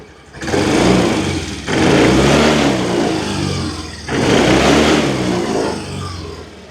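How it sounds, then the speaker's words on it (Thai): A 2020 Yamaha Grand Filano Hybrid scooter engine revs up loudly three times in succession, each burst of throttle rising and holding briefly before easing back. "เร่งเครื่องสักนิดหนึ่งนะครับผม"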